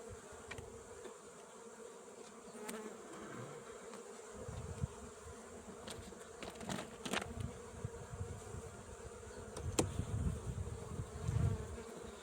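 A steady hum of many honey bees buzzing around a reed hive fills the scene close by, with occasional clicks and handling bumps.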